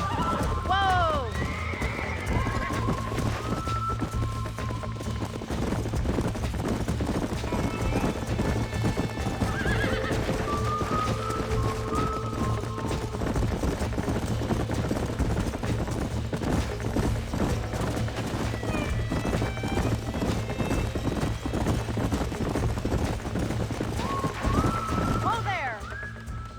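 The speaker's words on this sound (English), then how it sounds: "These are fine horses." Horses clip-clop and gallop with repeated neighs and whinnies in the western game Red Dead Redemption, a steady close hoofbeat rhythm lasting throughout, with voices talking over it.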